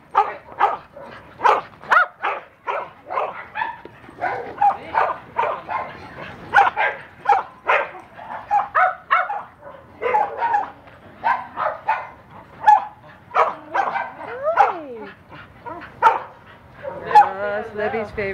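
Dogs bark and yip repeatedly in short, loud bursts at close range, mixed with whimpers, with people talking over them.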